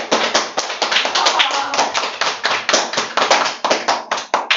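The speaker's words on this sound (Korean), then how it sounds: "빨리 잠에서 깨어나라는 박수입니다." A classroom of students claps together in a steady, rhythmic beat, with sharp, loud, evenly spaced hand claps running continuously and close by.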